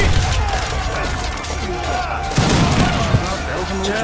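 Troops fire guns during a large Age of Empires battle with plastuny, opolchenets and Banner Army units: muffled game gunfire bursts and booms, the sharpest around the middle, under a running voice.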